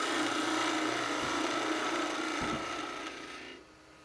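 A 1 5/8 gouge carves wood, a close steady scraping rasp with a couple of brief knocks, fading quieter near the end.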